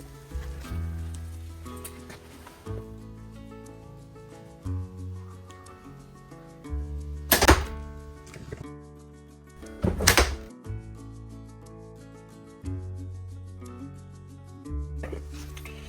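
Two arrows loosed from a bow at an archery range, each a sharp snap and thud standing out over steady background music, spaced a few seconds apart.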